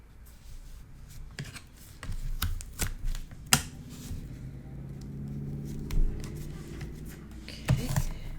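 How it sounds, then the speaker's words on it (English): Tape is pulled and pressed onto a paper craft, with a short series of crisp tears, crinkles and taps followed by a quieter stretch of soft handling. "And we'll just put some tape on those."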